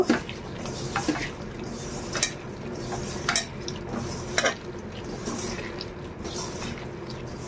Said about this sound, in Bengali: জিরে ধনের গুঁড়ো এবার আমি হাত দিয়ে ভালো করে চটকে নেব